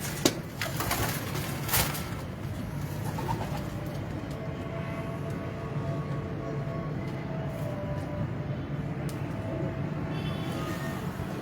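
Breeder pigeons in a loft coo softly and repeatedly over a steady rumbling background noise, with a few wing flutters near the start.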